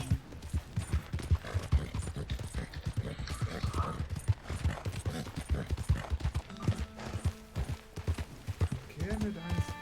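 Horse hooves clip-clop in the video game Red Dead Redemption 2, a steady rhythmic patter of footfalls under game music and someone talking over it.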